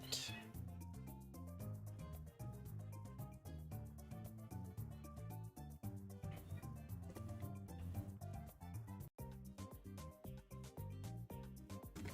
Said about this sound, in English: There are some cats outside who are mewing quite a lot.